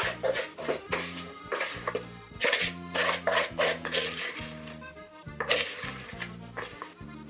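Egg yolk and sugar mixture being folded through whipped cream in a bowl for no-churn hokey pokey ice cream, heard as repeated soft scraping and rubbing strokes under steady background music.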